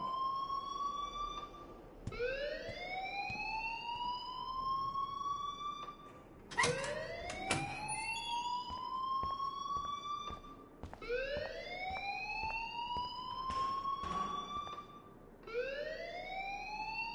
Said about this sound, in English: The alarm tripped me out.